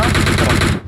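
Rapid automatic gunfire from an M416 Glacier rifle in the mobile game PUBG Mobile, a loud, dense, continuous burst of closely spaced shots that cuts off abruptly near the end.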